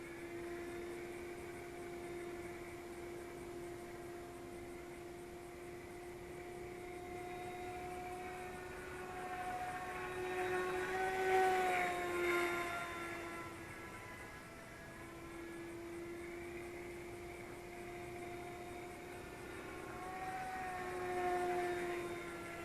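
Eachine Airloader 1280mm long-range FPV plane on a 4S 3300 mAh LiPo cruising at 70-75% throttle: a steady electric motor whine with harmonic tones that rise and fall slightly as it passes, moderately loud and alone.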